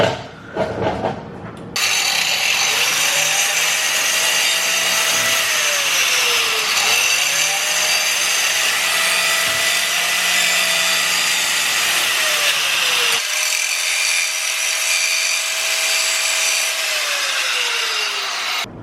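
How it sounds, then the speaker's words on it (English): A power tool grinds down suspension nubs on a Nissan 350Z during a Wisefab install, loud and close, its whining pitch dipping and rising in repeated passes over about sixteen seconds. "So I'm going to have to pull this all apart and grind those down."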